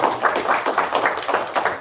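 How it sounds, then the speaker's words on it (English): Audience at a multicultural community meeting applauding, a short burst of many overlapping claps at fairly close range, steady throughout with no speech. "So a round of applause for the Fort Walton Beach Chamber of Commerce."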